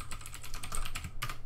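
Rapid typing on a computer keyboard, a quick run of light key clicks, close and clear, ending in a slightly louder final keystroke.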